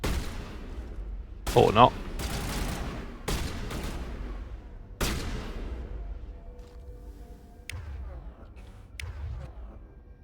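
Pistol shots crack in Mass Effect, a handful of sharp separate reports with ringing tails, spaced a second or more apart amid faint battle ambience, while someone speaks briefly.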